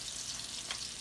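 Salmon patties, or croquettes, fry in hot oil in a pan on the stovetop, giving a steady broadband sizzle with no voices.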